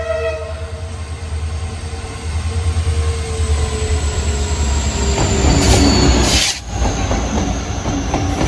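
A freight train carrying goods wagons rolls past on the railway line near Dudhsagar falls, a loud sustained rumble with wheel squeal, rhythmic clatter and a brief horn blast near the end.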